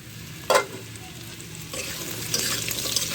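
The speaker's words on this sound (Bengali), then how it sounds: "আমি আগে আলুগুলো ভেজে নেব।" Cut potatoes fry in a pan over already-fried onions while being stirred, opening with a brief clatter and then settling into a close, continuous sizzle with scraping stir sounds.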